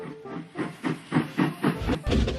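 A steam engine train hisses and chuffs in a steady rhythm of about eight puffs, with a clickety-clack rail quality, close and fairly loud with no talk over it.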